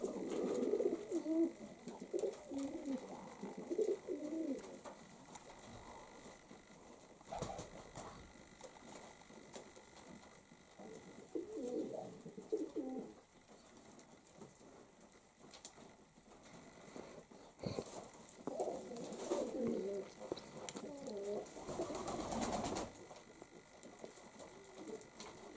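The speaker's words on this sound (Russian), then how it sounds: "Это голубь самец, самочка повыше сидит, голубка." Male and female pigeons coo on and off in soft rolling phrases, fairly quiet and close, separated by brief pauses and a few sharp knocks against a faint steady background hum.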